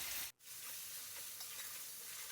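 Marinated chicken hitting a hot pan of gongura (sorrel leaf) masala in an Andhra-style curry, a steady loud sizzle and hiss after a brief cut, continuing evenly with no talking.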